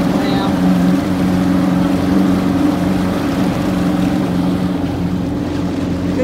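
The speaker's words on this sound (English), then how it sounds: "My trolling motor was working." A boat's trolling motor runs steadily on a lake, a continuous low hum with light water and wind noise throughout, fairly close and unbroken.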